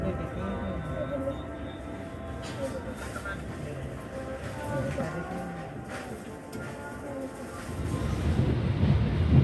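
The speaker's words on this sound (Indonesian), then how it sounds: "perjalanan kereta api Ranggajati sudah melintas langsung di stasiun Sindang Laut" The Ranggajati passenger train runs straight through Sindang Laut station at night, a continuous rolling rumble and rail noise that swells louder toward the end, with people talking over it.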